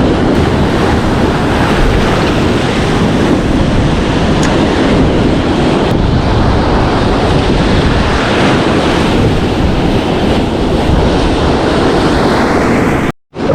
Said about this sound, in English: the tide's coming up, the waves are breaking in pretty close